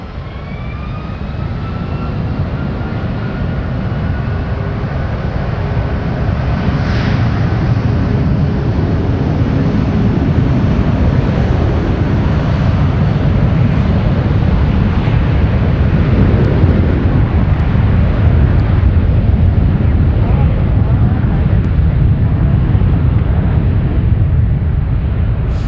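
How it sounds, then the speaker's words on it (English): Boeing 757 with Rolls-Royce RB211 engines taking off at San Francisco airport, a loud, steady low roar with broadband rumble that holds and slowly swells over the whole stretch, no talk. "Let's enjoy the RB211s."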